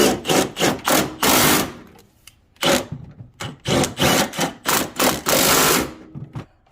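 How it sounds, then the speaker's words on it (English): Pneumatic impact wrench with an extension and 17 mm socket hammering three engine mount bolts on a Honda Pilot 3.5L V6, in loud repeated rattling bursts separated by short pauses, close up with no talk. "we're gonna use extension 17 mil and an impact."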